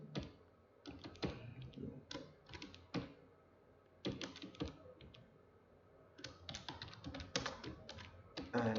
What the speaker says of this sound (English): So let me just type in fast.